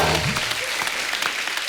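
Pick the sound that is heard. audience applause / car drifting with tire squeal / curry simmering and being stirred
audience applause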